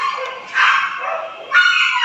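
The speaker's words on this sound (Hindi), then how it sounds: "यार कुत्ते लड़ रहे हैं" Dogs fight and bark in a few harsh, close bursts with yelping and whimpering tones, loud and rising in two surges.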